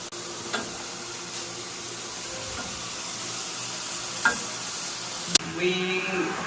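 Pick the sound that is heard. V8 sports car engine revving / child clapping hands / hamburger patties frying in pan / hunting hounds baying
hamburger patties frying in pan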